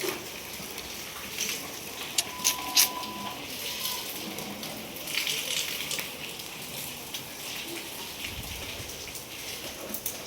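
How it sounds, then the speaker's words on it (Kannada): Rain falls steadily on a house during a Diwali Mahalakshmi puja, a soft, continuous patter heard close by with occasional sharper drops and clicks. "ಮಳೆ ನೋಡ್ರಿ ನಮ್ಮನೆ ಬರತೈತಿ ಎಲ್ಲ ನಮ್ಮ ಸಿರಿದೇವಿದ ರಂಗೋಲಿ"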